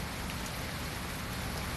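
Steady outdoor rain falling on surfaces during a building job among plants, a dense, even hiss without pauses, close and fairly loud.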